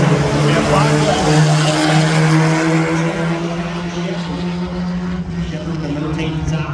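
Race cars at Adams County Speedway, a loud sustained engine drone with steady pitch, sounding like several cars running together on the track while a voice talks over it.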